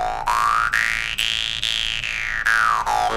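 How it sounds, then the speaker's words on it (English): A jaw harp twangs with a steady buzzing drone whose tone sweeps slowly upward and then back down as the mouth shape changes, played alone with repeated plucks and no voice. "So if I play the jaw harp,"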